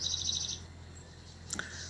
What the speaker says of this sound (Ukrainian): пташки співають, як в лісі сижу